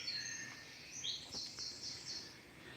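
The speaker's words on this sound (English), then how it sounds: "You can hear them on me on my hi-fi. I've got a Dawn Chorus CD playing." Dawn chorus birdsong playing from a CD on an indoor hi-fi, faint scattered chirps and short whistled phrases over a quiet room hiss.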